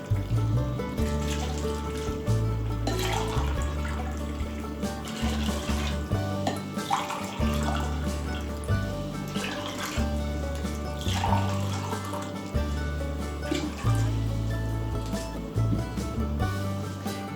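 Water pours steadily into a pot holding sugar for a syrup, a continuous close splashing and gurgling flow that keeps going throughout without a break.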